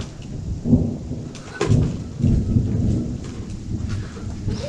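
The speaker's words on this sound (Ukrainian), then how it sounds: "О, зараз буде гриміти." Deep thunder rolls and rumbles through steady rain as a storm approaches outdoors, swelling in a few loud surges with no voices over it.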